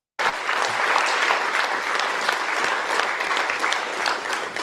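Sustained applause from a large audience of invited Communist party members rings out as a loud, even wash of clapping that begins abruptly and carries on without pause.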